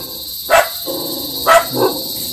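Dogs at a house bark in three short loud bursts, the last one smaller, with quiet background between them.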